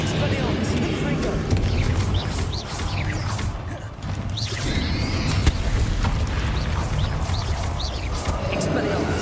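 Confringo explosive spells go off in the Hogwarts Legacy video game, with continuous loud booms and crashes layered with whooshing spell effects during a busy fight, and a voice shouting spell names over the din.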